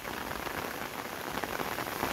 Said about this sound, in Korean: 정말 많은 비가 내리고 있어요.